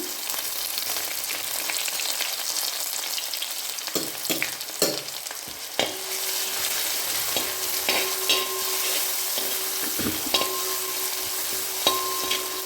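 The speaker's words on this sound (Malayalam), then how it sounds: "വെളിച്ചെണ്ണ ഒഴിച്ച് ചൂടായിട്ടുണ്ട് അതിലേക്ക് ചുവന്നുള്ളി വെളുത്തുള്ളി ഇട്ട് കൊടുക്കാം" Crushed shallots and garlic frying in hot coconut oil, a steady close sizzle broken by scraping stirs and occasional metallic clinks of a utensil against the pan.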